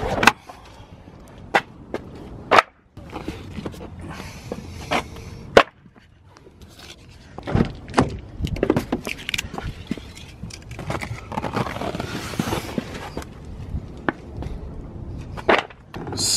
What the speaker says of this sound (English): So first things first, I'm gonna remove all of these floor mats.